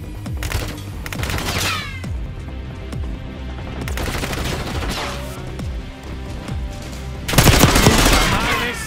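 Bursts of automatic gunfire ring out in a Call of Duty Black Ops 6 multiplayer match, with several volleys of rapid shots across the clip and a louder, heavier barrage near the end.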